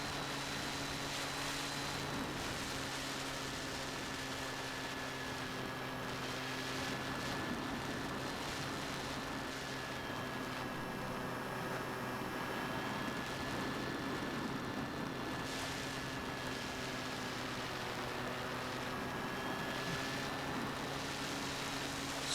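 A Volantex Ranger RC airplane drone flying overhead, its electric motor a steady thin whine with a faint shifting pitch, carried over a constant wash of wind and outdoor noise throughout.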